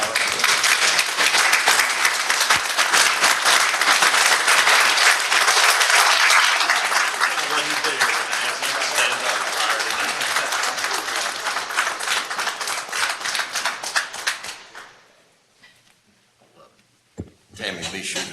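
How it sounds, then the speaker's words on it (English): A room at a Greer, South Carolina city council meeting breaks into a loud, sustained round of applause for the municipal clerk, fading out after about fourteen seconds before a few stray sounds. "join me in a round of applause for our clerk"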